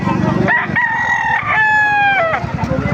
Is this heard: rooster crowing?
yes